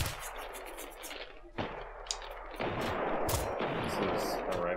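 Rifle shots fired in the video game Generation Zero, with several sharp, loud bursts spread across a few seconds, followed by a steady rumble of game noise.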